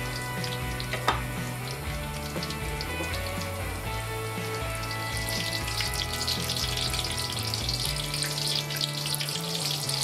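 Lumpia spring rolls sizzle and crackle steadily in hot oil at about 160 degrees Celsius, a continuous close frying hiss over a low hum, growing slightly brighter partway through.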